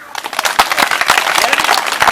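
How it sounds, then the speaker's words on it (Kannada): A group applauds a child at a children's village assembly, a dense burst of close clapping that fills the moment, with voices mixed in. "ಚಪ್ಪಾಳೆ"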